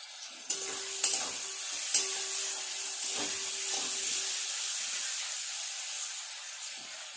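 Chopped vegetables and peas sizzling in a pan for chow mein, a loud steady hiss of frying with a few sharp clinks and scrapes of a stirring spoon early on, close up.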